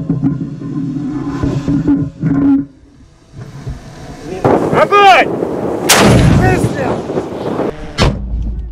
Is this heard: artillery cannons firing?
yes